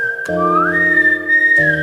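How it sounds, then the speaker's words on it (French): A single sustained final whistle tone that glides upward and holds, interrupted by brief clicks, sounding close and fairly loud against a droning background. "Coup de sifflet final"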